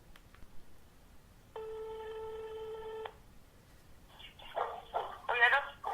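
A telephone call with a steady electronic ring tone lasting about a second and a half, followed by a burst of quick dialing beeps, heard close over faint background hiss.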